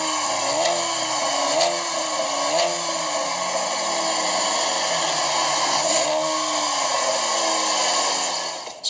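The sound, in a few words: 2013 Chevy Camaro engine revving against rev limiter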